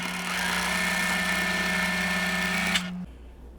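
A sewing machine chain piecing quilt block units runs in one steady, loud, continuous hum of rapid stitching for about three seconds, then stops abruptly, leaving near silence.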